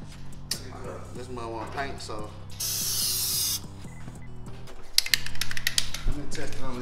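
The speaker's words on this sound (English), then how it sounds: "Let me make sure I'm spraying right." A can of spray paint hisses in one steady burst of about a second as it coats a Beretta BB gun. The burst is close and loud, with a speaking voice, clicks and handling noises around it.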